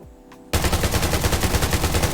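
Rapid automatic gunfire in the survival shooter Undawn erupts after a brief quiet moment, a loud, dense, steady stream of close shots continuing without pause.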